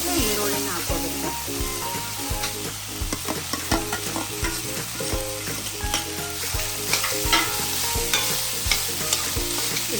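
Vegetables and onions fry and get stirred in a pan for an Uttar Karnataka palle dish, with a constant close sizzle and repeated scraping strokes of a spoon.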